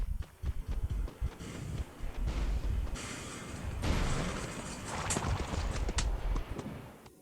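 A donkey's hooves clip-clop in a steady, close rhythm on hard ground, loud and continuous with some rattling and wind-like noise, and no talk over it.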